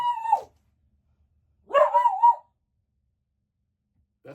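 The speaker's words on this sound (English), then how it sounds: "That's my dog." Chip, a pet dog in an RV, gives two short, close barks separated by a pause, the second drawn out into a howling whine, with a faint third yelp at the end.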